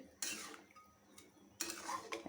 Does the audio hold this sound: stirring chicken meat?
yes